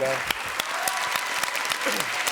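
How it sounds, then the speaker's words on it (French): Studio audience applause on a French television talk show, a steady patter of many hands clapping with a voice speaking over it. "Applaudissements de la foule"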